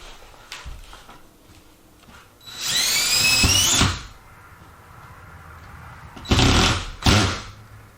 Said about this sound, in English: let's get the drill and the screws ready